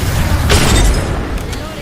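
A frag grenade goes off in Apex Legends as a loud, close boom with a rolling crackle, followed by a fainter burst under ongoing game noise.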